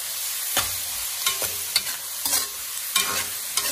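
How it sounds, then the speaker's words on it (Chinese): Drained zucchini stir-fried over high heat in a pan: steady close sizzling broken by sharp scrapes and clanks of a spoon or spatula tossing the pieces about every half second or so, with no voices. "再把控干水分的西葫芦倒下来，然后开大火，快速的翻炒均匀"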